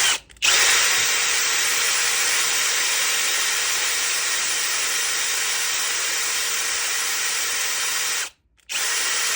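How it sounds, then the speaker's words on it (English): A power drill drilling into eco resin in a candle jar whines continuously at high speed for several seconds, starting after a brief pause and cutting out once near the end. "So I'm going to drill out this."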